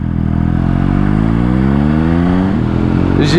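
Modified Triumph Speed Triple 1200 RS motorcycle, 180 hp, revving loud and close, its engine note sweeping steadily upward in pitch over a few seconds with no talk.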